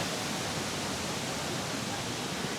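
A steady, full rush of falling water from a small waterfall in Vietnam, broadband and unbroken throughout, heard close by with no voices.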